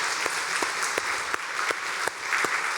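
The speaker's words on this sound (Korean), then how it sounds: "우리 하나님 감동받으시도록 힘차게 우리 한번 박수하도록 하겠습니다" A church congregation at a Korean Sunday worship service claps vigorously together: a dense, steady wash of many hands, loud and close, with a few sharper individual claps standing out.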